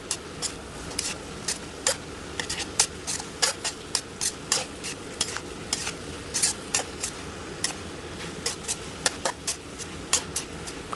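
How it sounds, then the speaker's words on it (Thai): A spatula scrapes and clacks rhythmically against a pan while pork sausage and holy basil leaves are stir-fried over a soft sizzle, with repeated sharp strokes, close and steady, and nobody talking. "เราก็จะไม่ผัดนานนะคะผัดพอแค่ใบกะเพราสลดลงไปเท่านั้นค่ะ"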